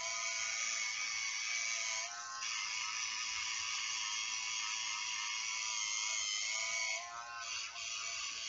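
An electric facial cleansing brush runs in a continuous close, high-pitched whir with a steady buzzing tone, dipping briefly twice as it presses against the skin.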